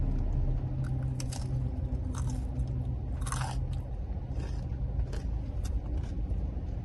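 Close, crisp crunching and biting into fried banana fritters (pisang goreng) at a local stall, several sharp crunches over about seven seconds above steady background hum.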